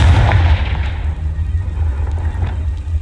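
The Confringo blasting spell explodes in Hogwarts Legacy as a single heavy boom with a deep rumbling tail that slowly fades away.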